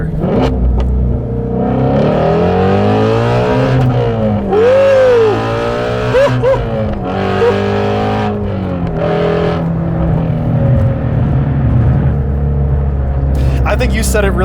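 A Ford Mustang, Shelby GT350 or 10-speed GT, revving in first gear, its exhaust climbing and dropping in pitch through several throttle pulls, loud and close, with a voice talking over it.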